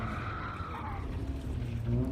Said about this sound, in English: definitely over braking because I'm just kind of not yet there with the calibration of how much downforce this car has